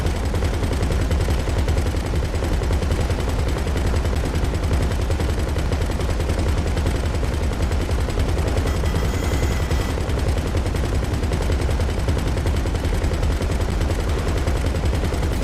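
Sustained, dense automatic gunfire in GTA 5 Online is aimed at a Titan cargo plane, a loud continuous rattle of rapid shots that never lets up, with no talking.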